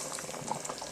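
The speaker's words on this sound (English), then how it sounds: "Now I'm going to pour the egg in." Beaten egg poured into a pot of simmering hot and sour soup, heard close as a soft bubbling, liquid burble with faint gurgles and no talking.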